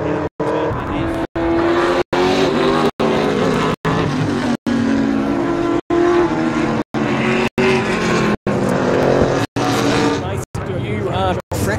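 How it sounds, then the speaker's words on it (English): Race cars run on the track at Wakefield Park Raceway during a state motor racing championship round, engines droning loud and steady with rising and falling pitch, repeatedly cut by brief gaps. "Race cars coming out onto the track."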